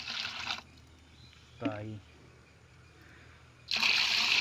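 Water is poured from a container into a litre of hardener mix, making two rushing, splashing bursts, one at the start and one at the end, with a brief spoken word in the quiet gap between them.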